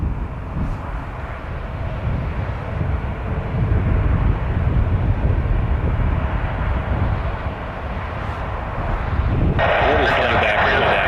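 A Boeing 787-8 Dreamliner at Vancouver airport gives off a steady, loud jet engine roar that swells gradually, with a brighter hiss building toward the end.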